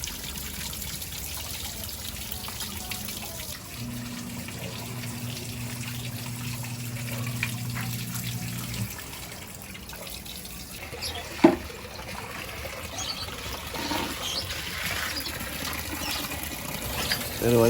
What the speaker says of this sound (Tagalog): Nilagyan din pala namin ng tubo sa taas para merong waterfalls effect siya.